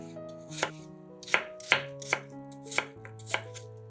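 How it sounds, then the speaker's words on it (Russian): A knife dices peeled apples on a cutting board in about six distinct, crisp strikes at an uneven pace, with light clatter between cuts. "Очищенные яблоки нарезаем кубиками."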